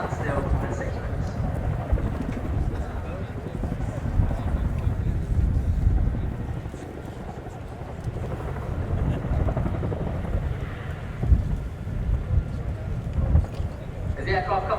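An RAF Chinook HC.6A twin-rotor helicopter performing a flying display at an air show, decelerating to a hover, heard as a loud continuous low rotor roar with wind buffeting while a commentator speaks over it.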